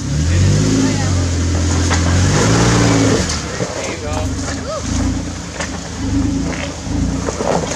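A car is driven with its engine revving loudly, then easing into a lower rumble over wind noise, while voices talk over it.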